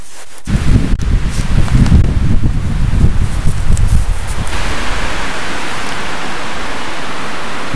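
Wind-driven rain battering a winter camp in snow, loud and continuous broadband roar with gusting rushes, unbroken and with no voices.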